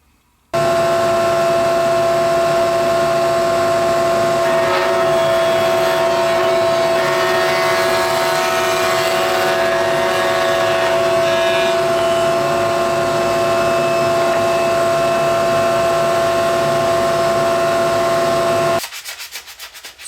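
A router cuts a shallow groove, about twelve inches long and an eighth of an inch deep, into walnut for an incense holder: a loud, steady high-pitched motor whine with rough cutting noise, running continuously for nearly twenty seconds before stopping.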